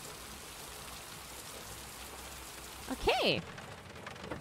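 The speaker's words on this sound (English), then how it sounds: "Of course it's raining." Steady rain falls in the video game Heavy Rain, a continuous wash of hiss heard from start to finish, with a brief spoken word near the end.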